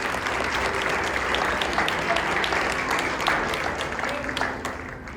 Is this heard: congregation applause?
yes